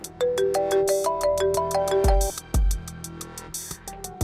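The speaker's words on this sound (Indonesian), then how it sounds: "Telepon dari kampus." A mobile phone ringtone plays a bright, melodic electronic tune with steady rising notes and thumping beats, loud and close with no talking over it.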